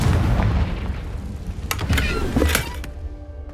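A Confringo spell explodes in Hogwarts Legacy with a loud, rumbling boom that fills the start, then several sharp cracking impacts as the blast fades out.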